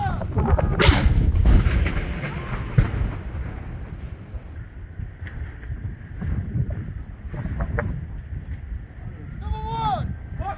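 Ceremonial artillery gun fires a round in a rainy Remembrance Day 2024 21-gun salute, one loud booming blast early on with a long rolling echo, followed by wind and rain noise and a shouted command.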